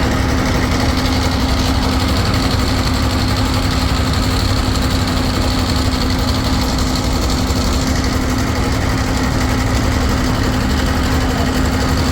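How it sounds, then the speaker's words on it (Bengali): Several passenger launch engines, diesel riverboat motors at a crowded pontoon, run in a loud, steady idle with constant vibration and a continuous hum, no voices. "একে একে সবগুলো লঞ্চেরই ইঞ্জিন স্টার্ট করে দিছে"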